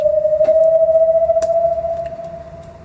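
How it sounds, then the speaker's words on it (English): Synth riser on an E note for a Eurobeat/Nightcore track made in FL Studio, a single steady tone gliding gradually upward in pitch, fairly loud and alone, slowly fading toward the end. "E note that bends up to a couple of octaves."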